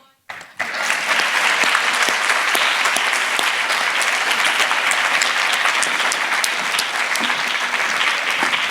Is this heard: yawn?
no